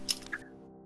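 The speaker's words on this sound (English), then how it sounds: "You can hear kind of the gentle trickle of water as you sort of step over this area." Water in a tabletop fantasy dungeon ambience: a couple of short, wet drips or squishes in quick succession, close and soft, then quiet.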